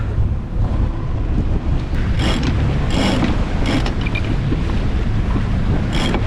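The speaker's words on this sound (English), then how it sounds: "Now we roll out the head sail." Sailboat on open water in 20-25 knot winds as the head sail is rolled out, with strong steady wind rush and water wash throughout and a few brief rattling, flapping bursts from the rigging, no voices.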